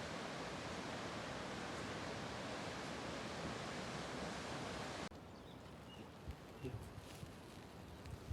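A rushing river of glacial meltwater roars as a dense, steady wash of noise for about five seconds, then cuts to a quieter, more distant background with faint chirps.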